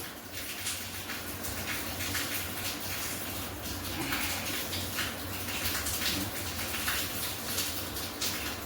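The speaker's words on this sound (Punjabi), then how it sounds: "ਥੋੜਾ ਜਿਹਾ ਜੇ ਪਾਣੀ ਦੇ ਸੜਕਾ ਕਰ ਦਿਓ" Water is sprinkled onto packed soil around a freshly planted rose cutting, making a continuous close, hissing patter of splashing water.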